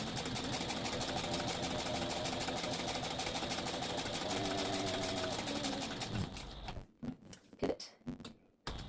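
A sewing machine runs steadily for about six seconds, stitching a 1/8-inch seam on a satchel without backstitching, with a rapid even rattle before stopping; brief rustling and handling noises follow.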